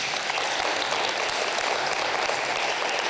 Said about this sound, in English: And a round of applause for Ji-woo and Ji-yu.